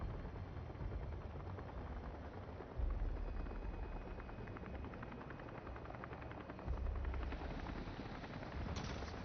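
In the Jurassic World Evolution 3 video game, a dinosaur attacks a helicopter amid a dense, loud rumble of rotor chop and rapid impact bursts, with heavier thuds swelling twice. There is no talk.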